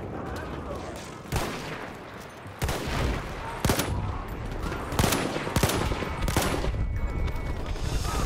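Artillery bombardment in the first-world-war shooter Battlefield 1: heavy booming blasts land every second or so over a dense bed of rattling gunfire, loud and continuous, with no voices.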